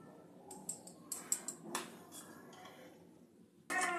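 A metal spoon clinks against a wok as ghee goes in for a bottle gourd kheer. The clinks are faint and scattered across a few seconds in a quiet kitchen, ending in a louder clattering scrape.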